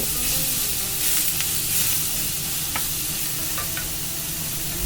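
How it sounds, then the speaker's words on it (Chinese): Flour-coated chicken breast pieces pan-fry over medium-high heat, giving a loud, continuous close sizzle with a few faint clicks and spatters and no voices. "然后放进锅里一起煎，保持着中大火，大概煎2分钟左右"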